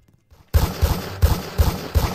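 Gunfire in the Roblox game Da Hood, a burst of loud, close shots coming in a quick uneven rhythm after a brief quiet start, with no talking.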